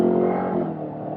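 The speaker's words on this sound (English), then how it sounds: "There was a Porsche 911 that passed me." A Porsche 911 engine drones steadily and loudly up close for about a second, a layered mechanical hum with a slight easing toward the end and no voices.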